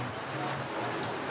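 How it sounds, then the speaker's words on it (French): Steady rain falls in a continuous, even hiss, moderate in level and alone with no voices, during a long rainy spell in a flood-prone area. "En attendant la fin de la pluie"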